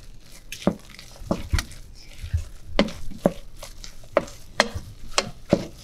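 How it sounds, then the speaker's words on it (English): Cream puff dough of flour being stirred in a pan, a steady series of scraping, slapping strokes with a faint sizzle underneath, close and moderately loud. "So just keep stirring so it doesn't burn."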